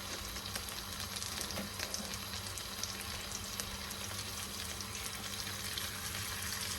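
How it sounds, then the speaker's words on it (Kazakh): Butter melting in a pan with three tablespoons of sugar being stirred into it, giving a soft, steady sizzle and faint frying crackle with occasional stirring sounds and no talk. "Міне осылай майымызбен қантымызды араластырып отырып былғаймыз."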